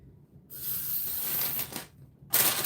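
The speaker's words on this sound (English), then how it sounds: "So just spray it a little bit." Spray adhesive hisses from an aerosol can in two bursts, a long steady spray followed by a brief pause and then a second short, louder blast, close up and with no talking.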